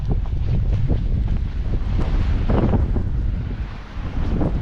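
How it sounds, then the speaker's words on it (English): Sea waves in Nuuk, Greenland during a heavy blizzard, a loud rushing surge of surf churned together with strong wind buffeting the microphone, steady and close without speech. "you can actually hear the waves"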